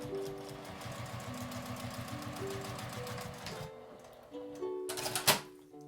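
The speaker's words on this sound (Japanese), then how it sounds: "開いて2枚を合わせるようにして引いて布端を縫います" Sewing machine stitching the fabric edges of a small IC card pouch, with a steady rapid mechanical chatter up close that stops near the end, followed by a few handling clicks and a sharp clack.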